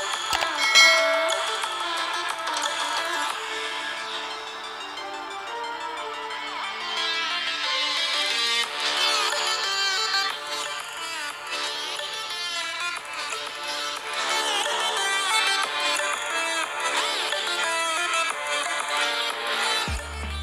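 Ringtone melody played through the dual speakers of a Samsung Galaxy S22 smartphone, a bright bell-like tune that runs steadily at moderate loudness for about twenty seconds with no talking.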